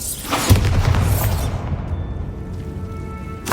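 A Bombarda blasting spell cast in Hogwarts Legacy lands as a loud, close boom with a low thump and a burst of crackling debris that decays into a fading rumble, with a second sharp hit near the end.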